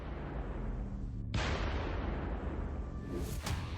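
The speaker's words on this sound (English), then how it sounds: "Coordinates received. Artillery on standby. Fire." Artillery firing, a broadband blast at about 1.3 s followed by a long rumbling roar, with a second sharp, bright burst near 3.3 s; loud and alone with no voices.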